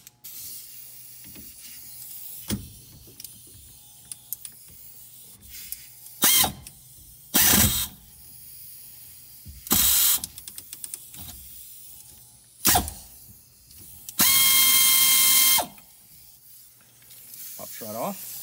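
A ratchet wrench works a 3/4 inch nut off the steering column spindle of a 1972 Chevy Highlander, in several loud, hissing, close bursts separated by quieter pauses.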